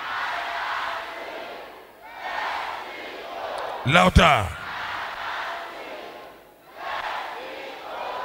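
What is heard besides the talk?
congregation shouting loudly together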